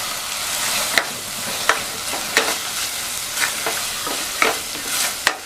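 Mushroom biryani masala with yogurt, mint and coriander leaves is stirred in a pan over a steady frying hiss. Firm spoon strikes against the pan come roughly every second, close and loud, with no talk.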